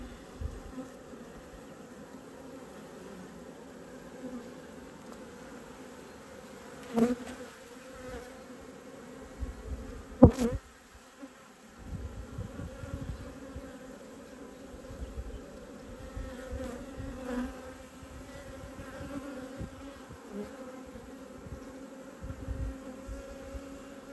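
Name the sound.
honey bees buzzing during apiary hive inspection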